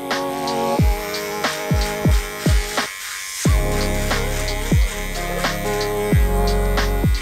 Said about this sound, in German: dazu mache ich jetzt erstmal den Aufsatz hier von dem Rasierer ab und starte dann erstmal